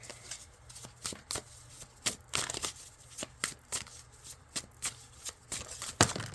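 Tarot cards are shuffled over and over, a crisp riffling patter in uneven bursts, close and fairly quiet.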